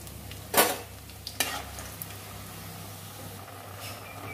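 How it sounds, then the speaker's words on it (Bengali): Lentil dumplings (bori) frying in mustard oil, a soft steady sizzle with two brief sharp clinks of stirring near the start, fading to a low simmering hiss. "বড়িটা ভেজে নিচ্ছি।"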